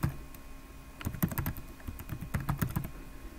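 Fingers typing a password on a computer keyboard in two quick bursts of close, crisp key clicks separated by a short pause, with a faint steady hum behind and no talk.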